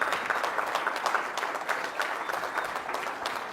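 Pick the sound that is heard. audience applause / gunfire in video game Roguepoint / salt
audience applause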